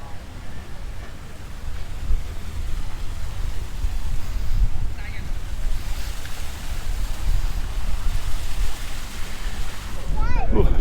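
Strong wind buffets the microphone on a hilltop by the Middle of the World monument in Quito, Ecuador: a steady, loud, low rumble with gusty swells throughout, and a brief voice near the end.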